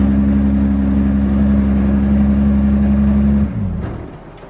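A BMW E21 engine runs with a loud, steady hum close by for about three seconds, then cuts out and fades into a quieter tail, with no voices.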